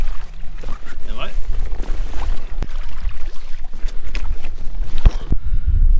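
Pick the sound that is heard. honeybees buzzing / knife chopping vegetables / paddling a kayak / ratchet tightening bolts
paddling a kayak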